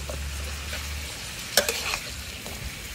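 Bitter melon sizzles in a hot pan while a utensil scrapes and clinks against it a few times during stir-frying, close by, over a steady frying hiss.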